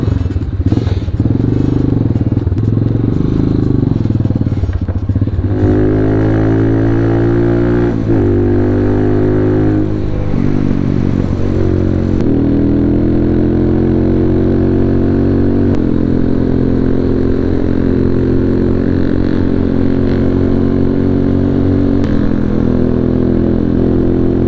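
A group of motorcycles rides along the Murree Expressway, their engines droning loud and close with a steady, clattering roar that shifts in pitch as they accelerate and hold speed for the whole stretch.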